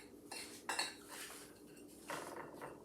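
Seasoning for baked chicken, with bouillon cubes, being mixed in a dish: a few scraping clinks of a utensil against the dish, fairly quiet and close, with a steady background and no talk.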